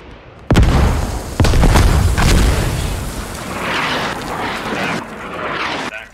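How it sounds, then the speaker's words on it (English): Video game Squad: a heavy bomb blast hits with a sudden loud boom, then a second impact follows, and a long rumbling roar slowly decays. "Alright, bomb inbound. Brace."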